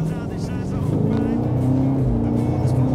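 A BMW M8 Competition with a 625 hp engine pulls hard under full throttle, its deep exhaust note rising steadily and loud from start to finish while someone talks over it.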